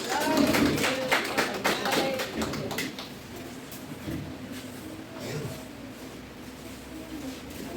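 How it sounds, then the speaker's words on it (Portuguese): A church congregation applauding during a Sunday service, a burst of many hands clapping at first that thins and fades into quieter room ambience after a few seconds. "aplausos a Jesus"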